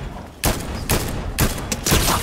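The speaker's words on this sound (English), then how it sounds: "I heard gunshots." Four sharp bursts of gunfire in the Fortnite video game, evenly spaced and loud, each shot cracking out over steady game background noise with no talk.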